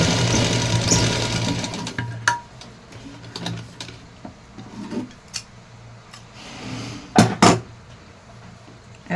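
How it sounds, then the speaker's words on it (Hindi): A sewing machine runs steadily up close, stitching a long seam on a small dress, then winds down, followed by a few sharp clicks and handling knocks. "तो चलिए इसको एक लंबी सिलाई लगा लेते हैं।"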